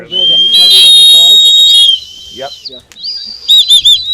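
High, bright tin whistle tones played in sustained notes, then a pause and a few quick repeated notes, loud and close.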